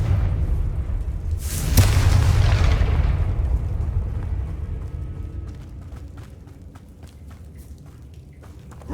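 Confringo blasting spell in the Hogwarts Legacy video game goes off as one loud, sharp burst, then rolls into a long, dense rumble that slowly fades over several seconds.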